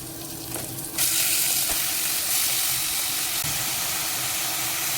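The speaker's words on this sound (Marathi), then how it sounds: "तर इथे मी 1 मिनिटभर त्या मटणाला छान हाय फ्लेमवरती परतवून घेते." Mutton and onions frying hard in a pan over high flame, a loud, steady sizzle that jumps up after the first second and holds without a break, with no talking.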